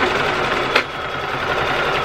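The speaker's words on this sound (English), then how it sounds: "we're going to take it to the sewing machine and we're going to go quilt it" Sewing machine quilting fabric panels layered with batting, a steady close mechanical whir with rapid needle stitching and a brief clack near the start, running alone without talk.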